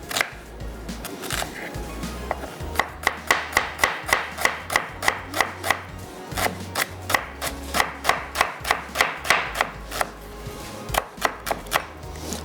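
Knife chopping onion on a cutting board, a rapid run of crisp, evenly spaced chops that pause briefly and resume, loud and close.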